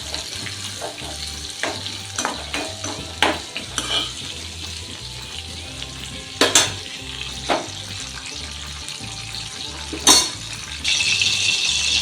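Gevda beans and spinach frying in oil in a pan, with a steady sizzle broken by scraping, stirring knocks and occasional sharp clinks of a utensil against the pan, getting louder and hissier near the end.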